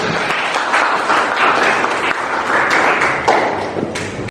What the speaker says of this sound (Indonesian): Tepuk tangan untuk ini.